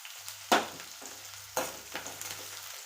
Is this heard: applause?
no